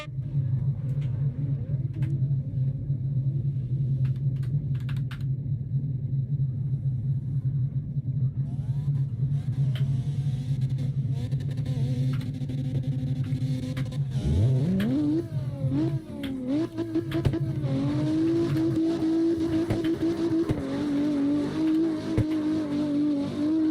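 A BMW drift car in CarX Drift Racing Online, its engine droning steadily at a low pitch before revving up, rising and falling in pitch under tire screech, loud and continuous throughout.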